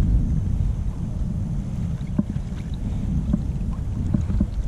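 Wind gusting across a pond during kayak fishing for bass, a steady low rumble of microphone buffeting with light water lapping against the kayak and a few faint knocks, no speech.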